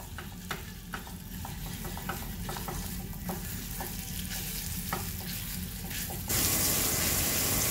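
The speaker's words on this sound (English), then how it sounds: "And now we're just going to cook the chorizo" Chorizo fries in bacon grease for frijoles charros, a steady close sizzle with scattered stirring clicks, then a louder, brighter hiss of water from a tap near the end.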